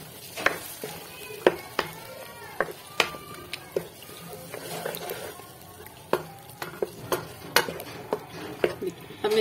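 Yogurt going into a simmering Lahori-style chicken karahi curry on low heat and being stirred, with a scatter of sharp spoon and pan clacks over a soft sizzle, close and fairly quiet.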